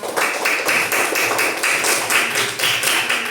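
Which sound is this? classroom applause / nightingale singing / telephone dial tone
classroom applause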